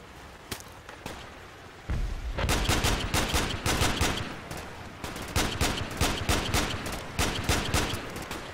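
Battlefield 2 Project Reality gunfire: scattered single shots, then from about two seconds in, dense rapid bursts of automatic fire crackle loudly and close, with repeated sharp cracks through to the end and no voices.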